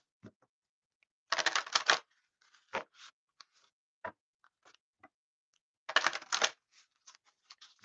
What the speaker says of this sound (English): You hear the shuffling.